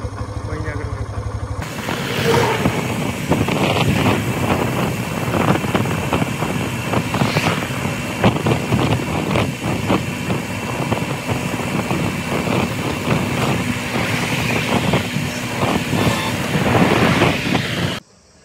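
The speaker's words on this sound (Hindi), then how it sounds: "हवा चल रही है" Wind blows outdoors on a hot, sunny day, a continuous rushing and buffeting roar that stays loud and steady for most of the stretch before cutting off abruptly at the end.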